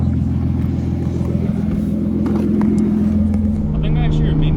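Nissan R32 Skyline cruising, a steady close engine drone with a continuous low rumble and a slight rise in pitch toward the end, with occasional faint background noises.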